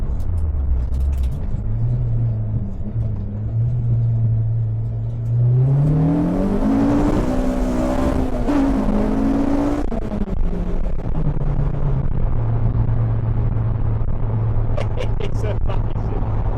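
A Honda Civic EK9 fitted with a K24 engine pulls through a corner in second gear, its engine note rising under acceleration, then easing off into a steady drone with cabin road noise.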